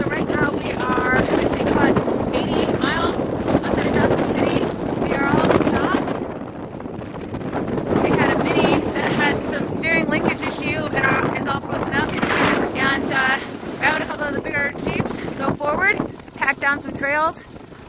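Strong wind buffets a moving Mitsubishi Pajero Diesel on a snowy winter road through drifts, a steady roaring rush with gusty swells and a dip near six seconds; voices talk over it.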